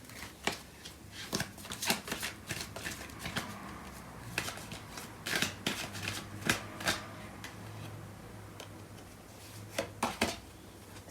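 Tarot cards are shuffled by hand in soft, papery riffles and flicks, a quiet series of quick bursts repeating close by.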